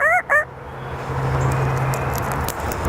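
A parrot imitates a rooster crowing with two brief, shrill, close calls at the very start, followed by quiet background noise.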